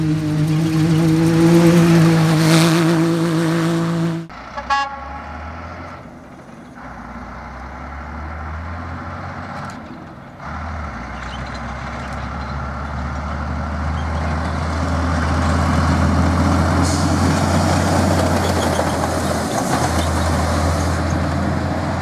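A rally race truck at the Africa Eco Race in Morocco rumbles past nearby. A loud, steady low engine drone builds over about twenty seconds, with no voices.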